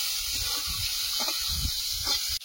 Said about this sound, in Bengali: সবসময় সর্ষে ফোড়ন দিয়ে আম ডাল করি, আজ একটু জিরে ফোড়ন দিলাম